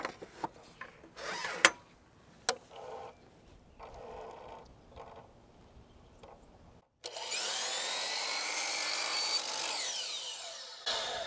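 A power saw cuts a baseboard return, a few short sharp bursts and scrapes early on, then a loud, steady whining cut running for several seconds close by.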